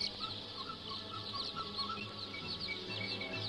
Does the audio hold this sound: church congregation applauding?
no